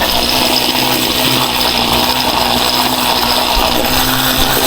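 A string trimmer's small two-stroke engine idles outdoors during yard chores, a loud, steady high buzz with a constant drone held evenly and close to the microphone throughout, with no talking over it.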